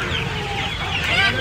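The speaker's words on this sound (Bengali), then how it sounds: "এখানে দেখতে পাচ্ছেন কোয়েল মুরগির বাচ্চা আছে" Quail chicks at a poultry market make busy, overlapping chirps and clucks close by, with no one talking, in a short burst of bird noise.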